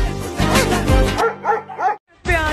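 A dog barks and yips in a musical remix of a song, several sharp barks and whimpering yelps over a buzzing beat, loud and close, with the track cutting out briefly before a voice-like tone returns.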